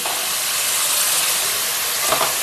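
Green chillies frying in hot oil with softening onions in a pan for mutton curry, a continuous broad sizzling hiss with a small scrape or stir toward the end.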